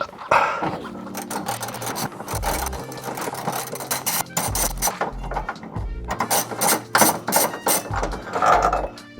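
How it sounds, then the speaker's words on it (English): A socket ratchet loosening a subframe stopper bolt on a WRX STI: rapid clicking ratchet strokes in several bursts, loud and close, with pauses between runs. "we'll just grab the socket, the ratchet, and just take it apart"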